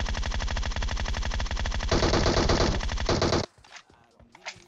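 Rapid automatic gunfire from PUBG Mobile rattles in a long, loud, evenly spaced burst of shots that stops abruptly, leaving faint game sounds behind.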